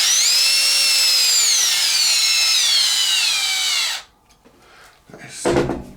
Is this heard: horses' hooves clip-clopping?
no